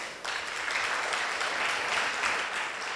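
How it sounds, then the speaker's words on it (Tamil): An audience at a school annual day applauds the parents with steady, dense clapping from a large crowd that rises quickly and holds for the full three seconds. "one big round of applause for the parents"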